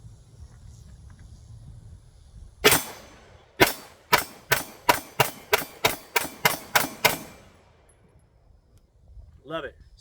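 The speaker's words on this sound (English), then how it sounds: "first we're going to shoot the XDM Elite." A Springfield Armory XDM Elite 9mm pistol is fired outdoors. One sharp shot is followed by a steady string of about ten more, evenly spaced and loud, after faint background noise.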